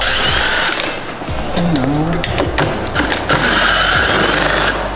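A power tool removes bolts from a car's front end, running loud and close in long steady bursts with a brief pause around the middle, while a voice speaks briefly underneath.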